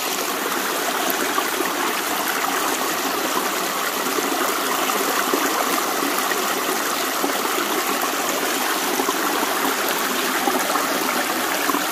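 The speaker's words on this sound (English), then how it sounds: "Just come down by the river or a nice creek, listen to that water." Creek water flowing steadily near a river in West Virginia, a continuous broadband rushing and trickling wash that holds even and fairly close throughout, with no voices.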